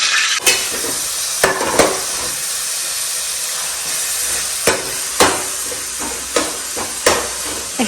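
Tempering spices for sambar sizzle and hiss in a hot pan, broken by several sharp scraping stirs at irregular intervals, close and fairly loud.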